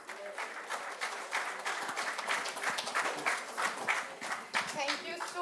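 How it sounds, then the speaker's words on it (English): Sustained audience applause at the Indo-Japan Excellence Awards 2024 ceremony: dense, steady clapping from many hands filling the room throughout, with a voice speaking faintly beneath it. "For him, one more time, big applause"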